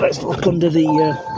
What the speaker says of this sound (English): that noise is to tell you that I've left the key in the ignition